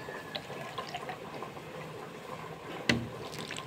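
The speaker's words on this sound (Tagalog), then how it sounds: "So, dagdagan natin tubig," Water is poured into a container to fill it, a close, continuous gurgling flow with a sharp knock near the end.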